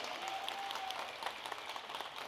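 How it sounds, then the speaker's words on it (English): Faint, distant applause from an audience at a school district State of the District event in 2023, a soft steady patter of clapping heard from afar with some crowd murmur underneath. "y'all can clap more than that now"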